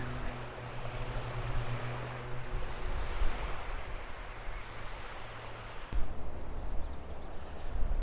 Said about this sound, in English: today it's a bit windy